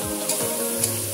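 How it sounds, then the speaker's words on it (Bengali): Starfruit chutney with salt and turmeric fries in a pan, giving a steady close sizzle. Faint stirring scrapes are heard twice. "ভালো করে এটাকে ভেজে নেব"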